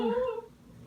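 A house cat gives one short, bright meow that bends downward and fades within half a second, close and fairly clear.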